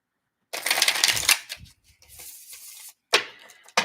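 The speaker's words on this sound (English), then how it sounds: "I'm gonna do one more shuffle for you, Libra girl, and I'm gonna read whatever card comes to the bottom" Tarot cards being shuffled by hand, a crisp riffling burst followed by softer slides and taps of the deck, then a second short riffle, close and quiet with no talking.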